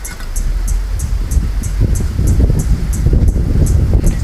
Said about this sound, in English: we've got the wind blowing, so we're not getting a perfect flame on the bottom